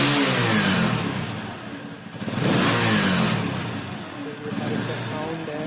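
A TVS Apache RTR 160 motorcycle engine revs up and down in the rain, loud and close, with the throttle rising in swells that dip briefly and surge again.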